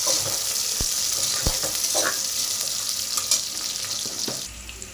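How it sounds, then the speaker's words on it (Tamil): Chopped onion and green chilli frying in hot oil with mustard seeds and cumin, a close, steady sizzle broken by sharp spatula knocks and scrapes against the pan. "பண்ணி வச்சிருக்கிற வெங்காயம் பச்சை மிளகாய் சேர்த்துக்கலாம் ऑयल நல்லா ஃப்ரை ஆகும்"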